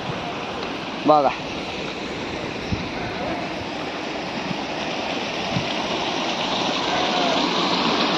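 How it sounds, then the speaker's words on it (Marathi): Water pours over a check dam in a steady broad rushing roar, close and continuous, while someone speaks briefly over it. "हे बघा बंधारा, हा संपूर्ण असं पाण्याचंच वातावरण आहे. हा धबधबा"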